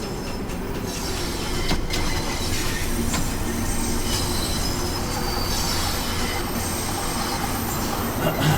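A train on the Cholsey and Wallingford Railway rolls past close by, a loud, steady rumble of wheels on rails with high metallic squeals from the wheels running throughout.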